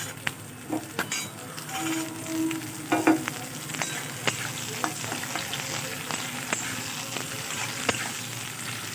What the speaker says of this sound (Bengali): এবার আমি ভেজানো ছোলাগুলো দিয়ে দেবো